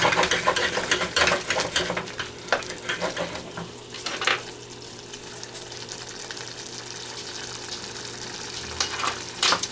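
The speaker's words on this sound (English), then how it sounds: "Give it a little stir." Pastelon filling is stirred in a pan with a spoon, producing a close frying crackle broken by scrapes and occasional clinks against the metal, busier early and settling into a steady sizzle.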